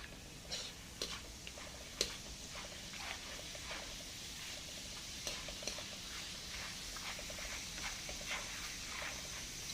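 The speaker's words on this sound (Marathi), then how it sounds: "आता डाळ तळून घेऊया डाळ अगदी पट्टीशी तळलं जाते" Dal frying in hot oil for maize chivda, a continuous soft sizzle with scattered light clicks and stirring taps throughout, steady and close.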